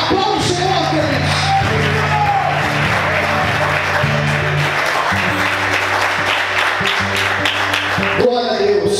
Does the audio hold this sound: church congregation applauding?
yes